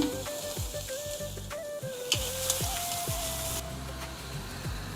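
Chicken sukka sautéing in a pan with onions, sizzling and crackling steadily with frequent small pops and spatters up close.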